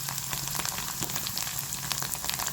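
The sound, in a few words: oil spattering while frying paneer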